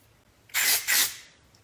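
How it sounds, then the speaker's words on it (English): Hairspray from a bottle sprayed up underneath the hair to hold the face frame, two quick close hisses back to back, alone in a quiet room. "spray up underneath"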